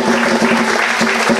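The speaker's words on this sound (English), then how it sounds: "let's give these children another round of applause" Steady, close applause from a summer camp play audience honoring a children's steel symphony, dense clapping filling the whole moment with a faint tonal hum beneath.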